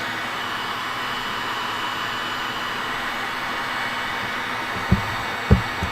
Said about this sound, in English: I got the heat gun and I'm drying them off